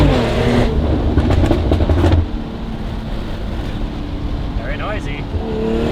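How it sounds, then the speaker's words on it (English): A BMW G42 M240i with a Valvetronic Designs exhaust runs with its exhaust valves closed, giving a loud, steady engine drone dominated by intake noise, heavier at first and then settling lower, with faint voices underneath. "Valves closed. A lot of intake noise."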